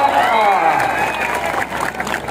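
A crowd claps and cheers loudly at a Punjab kushti wrestling bout, with a steady roar of applause and a voice calling out over it throughout.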